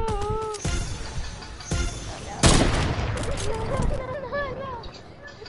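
Gunfire rings out in a video game shootout, a burst of sharp shots with one louder blast midway, mixed with game sounds and heard under and between excited talk.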